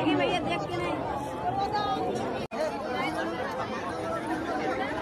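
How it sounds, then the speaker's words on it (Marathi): A huge crowd gathers at the Maha Kumbh 2025 bathing site on the Ganges, with a dense, continuous babble of many voices close by and a steady hubbub of people moving around. "प्रचंड गर्दी आहे इथे"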